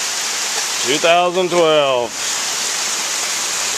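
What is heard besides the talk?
rain and hail falling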